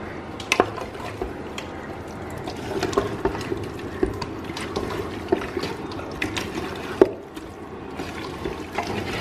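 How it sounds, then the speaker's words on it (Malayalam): Water is poured into a pot of rice for Ambur biryani, a steady low trickle and splash marked by occasional sharp clinks of metal utensils against the pot, with no talking. "നമ്മുടെ അരിക്കുള്ള അളവിൽ നമ്മൾ വെള്ളം ഇതിലേക്ക് ഒഴിച്ചു കൊടുക്കുക."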